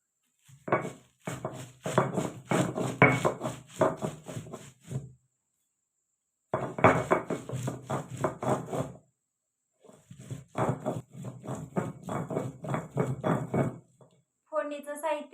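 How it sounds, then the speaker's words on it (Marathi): Garlic and coriander with a pinch of salt ground into paste in a village kitchen, rhythmic rapid rubbing and grinding strokes in bursts with pauses, close and clear, no talk. "कोथिंबीर थोडस मीठ चिमूटभर टाकून घेऊ म्हणजे लगेचच वाटण बारीक होतं"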